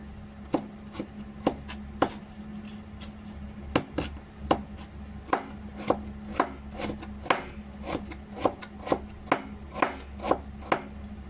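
A knife chops steadily on a board, regular crisp thuds about one per second over a low background hum, close by and without speech.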